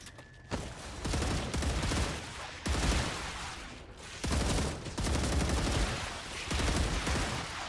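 Enemy splitters in StarRupture lay down suppressing gunfire in repeated loud bursts, each a dense rattling volley of a second or two separated by short lulls, with no talking.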